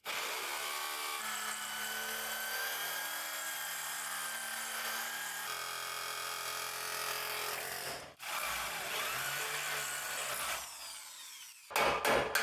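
A power drill whines steadily at high speed, pausing briefly and shifting pitch as it works on a stubborn front suspension bolt on a 1994 Chevy K1500 pickup, loud and close.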